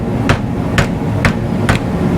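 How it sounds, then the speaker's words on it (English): A bushing being pushed out on a 1980 Datsun 280ZX, heard as four evenly spaced metallic knocks about half a second apart over a steady low background rumble. "Just wanting to push this bushing out."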